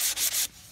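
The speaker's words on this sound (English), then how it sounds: "you're going to want to sand it up" Sandpaper rubbed across a wooden frame in three quick back-and-forth strokes, a close, rasping scrape, then quiet.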